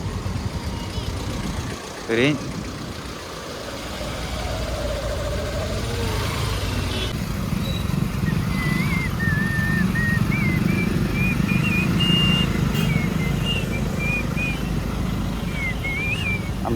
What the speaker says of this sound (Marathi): इकडनं ट्रॅफिक चालू झाला.